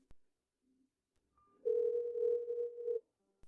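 A telephone dial tone sounds while a call is being placed: one steady, unbroken tone held for just over a second, preceded by a faint click and quiet handling noise.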